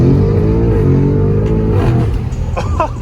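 A tuned Audi S8 accelerates hard from a standstill to 60 mph, a loud, deep engine note climbing steadily through the gears, heard close from inside the car.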